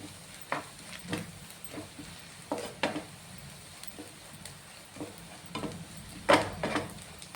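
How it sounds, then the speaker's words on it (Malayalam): Spice powders with curry leaves are sautéed in a pan, a low sizzle broken by repeated scraping stirs and a few sharper clinks of the spatula, nearby and with no speech. "ഈ മസാലപ്പൊടികളുടെ പച്ചമണം മാറുന്നിടം വരെ വഴറ്റിയാൽ മതി."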